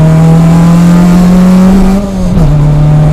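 A Honda Integra Type R DC2 engine revs hard and loud under acceleration, holding a strong steady drone that climbs slightly before dipping briefly near the end, as if at a gear change, then carrying on.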